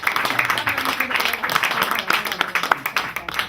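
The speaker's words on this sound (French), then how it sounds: "Let us clap for our Lord." A church congregation claps and applauds during a prayer service, a dense, continuous crackle of many hands filling the space at steady loudness for the whole stretch, with some voices mixed in.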